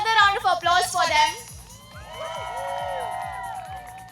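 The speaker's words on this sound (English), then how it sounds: "Can we have another round of applause for them?" Guests at a wedding sangeet cheer and shout after a performance. Loud whoops and crowd voices come first, then a quieter stretch of chatter and music-like tones with a low rhythmic thump underneath.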